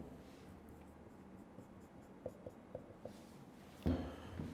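Chalk or marker tapping and scratching on a classroom board during a chemistry lecture, a short run of light, evenly spaced taps over faint room noise, ending with a louder knock.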